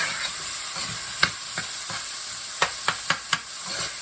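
A medium-sized chopped onion sizzles in a pan. There is a steady frying hiss with occasional sharp crackles and a few stirring scrapes, close and alone with no talk.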